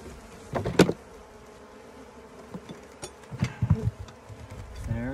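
Honeybees buzzing around an open hive during a queen check, a steady insect hum with scattered louder passes near the ear, plus a few bumps and handling knocks.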